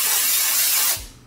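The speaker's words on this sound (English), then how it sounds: "So I need to spray down the fringe as well" A short, steady hiss of aerosol hairspray on a fringe, close and bright, lasting about a second before cutting off.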